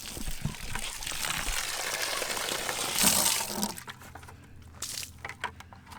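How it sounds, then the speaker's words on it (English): Water gushes from an outdoor spigot on a catamaran, used for filling laundry containers: a loud, steady splashing stream up close that stops partway, leaving quieter drips and handling noises. "here is the water spigot."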